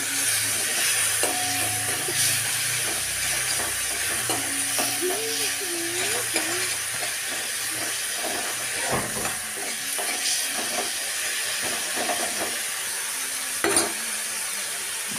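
Spice masala with water being stirred and fried in a pan for a cabbage ghonto or fish kalia, a steady sizzle under scraping stirs and occasional pan knocks, with a brief hum of voice early on.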